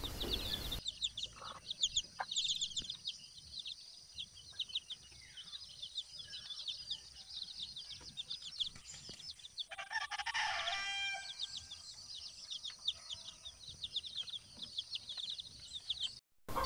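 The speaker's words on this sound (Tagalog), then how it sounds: "ito naman po yung pure na darag na native chicken" Darag native chickens cluck and a rooster crows repeatedly nearby, with chirping birds in the background; no talking.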